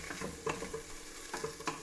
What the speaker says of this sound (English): the frying in the oil will replicate the dry frying of the spice